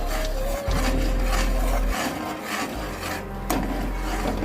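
Milk powder being stirred into milk in a pan: loud, close scraping and rubbing of a spoon against the pan, continuous with a couple of short pauses and a sharp knock near the end.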